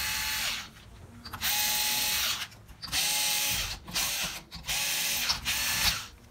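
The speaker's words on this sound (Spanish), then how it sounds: "Primero voy a aflojar las cuerdas." Guitar strings being loosened with a winder or tuning mechanism, a clicking, ratcheting whir in several bursts separated by short gaps, close and fairly quiet, with rising and falling string tones.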